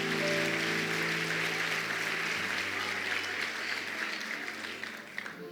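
A church congregation applauds together, a dense wash of clapping that fades slightly toward the end, with a sustained tone beneath it early on.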